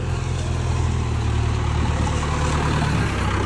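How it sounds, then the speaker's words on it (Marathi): A JCB excavator's diesel engine running steadily close by, a continuous heavy low rumble and drone with no pauses and no talk. "जेसीबी भी आ गई अपनी."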